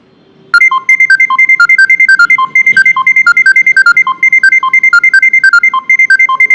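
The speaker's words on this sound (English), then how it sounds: "It will trigger a notification, and a driver will get a notification something like this." A taxi app's ride request alert for drivers plays a loud, rapid, repeating electronic melody of bright beeping tones that cycles continuously after a brief quiet start.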